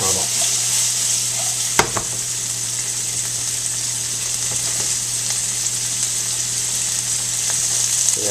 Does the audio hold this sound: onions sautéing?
yes